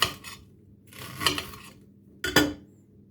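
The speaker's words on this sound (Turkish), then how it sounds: "Pırasaları doğradım ve e, soğuk suyun içine aldım" A knife chops leeks on a board in a few separate bursts, crisp cutting strokes with short pauses between them, close and fairly quiet.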